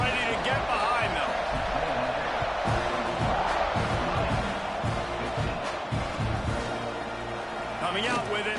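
A large football stadium crowd at a Miami vs Texas A&M game roars in a steady, loud wash just before a kickoff, with a commentator talking over the noise throughout.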